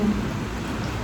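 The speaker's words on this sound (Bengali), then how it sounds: "আওয়াজ শুনে তো বোঝাই যাচ্ছে যে কতটা জোরে হচ্ছে বৃষ্টিটা" Heavy rain with hail during a summer kalbaishakhi storm pours down in a dense, steady hiss, loud and close.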